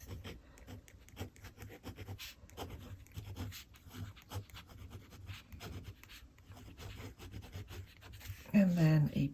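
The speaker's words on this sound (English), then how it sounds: "it's even the sound the nib makes on the paper that can help determine wetness" Fountain pen nib scratching across paper while a swatch of ink is written, giving faint, irregular strokes and scrapes over several seconds, close by and quiet, ending with a louder brief noise.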